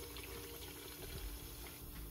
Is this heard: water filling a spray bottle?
yes